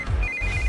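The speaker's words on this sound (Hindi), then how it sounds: "इस वक्त दीदी का फोन।" A phone rings in a Hindi-dubbed South Indian action film, a single sustained electronic ringtone tone, close and clear over a low rumbling background, with no speech.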